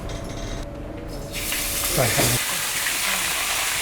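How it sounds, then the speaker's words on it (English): Marinated bat meat hits hot oil in a frying pan, and a loud sizzle bursts in partway through and keeps going steadily. Voices talk briefly over the frying. "So we fry on the oil. Very quickly. I just quick the fry."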